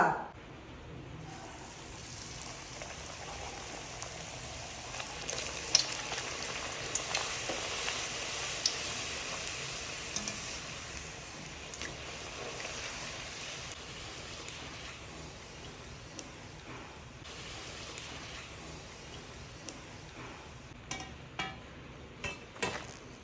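Tomato masala pooris fry in hot oil with a soft, steady sizzle. It runs quietly and evenly throughout, with occasional small pops and light bubbling.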